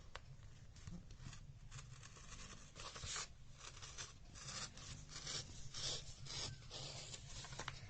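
Scissors cutting through a folded A4 paper sheet, a faint, steady rasping snip that continues in short surges, quiet and close, with no talking.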